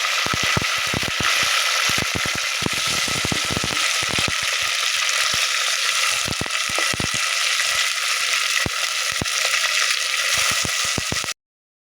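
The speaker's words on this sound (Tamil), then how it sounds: "தக்காளி வெங்காயம் எல்லாமே கொஞ்சம் வதங்கி கொடுக்கணுங்க" Tomatoes and onions sauté in a clay pot with a steady, loud sizzle that holds throughout, broken by frequent sharp scraping and stirring clicks.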